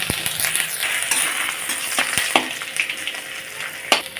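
Ginger and panch phoron spices frying in hot oil for a matar dal, a steady close sizzle with occasional sharp crackles and pops, heard alone without talk.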